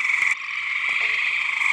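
A dense night chorus of gray tree frogs, hundreds calling together in a steady, loud trilling wall of sound with no pauses, a few nearer voices standing out briefly.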